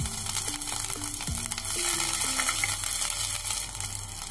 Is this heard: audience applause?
no